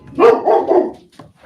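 A puppy barks close and loud, a quick burst of two or three yappy barks followed by a softer short yip, with no talking.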